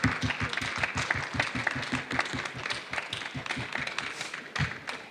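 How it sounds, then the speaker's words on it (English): A small audience at a talk claps steadily for several seconds, a dense patter of hand claps with no voices over it. "maybe we better give applause to him, first of all."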